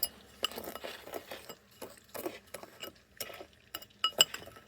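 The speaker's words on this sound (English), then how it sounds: "Stir it up." A spoon stirs cinnamon sugar filling in a bowl, making quiet scraping and light clinking strokes in an irregular rhythm, close by and without talk.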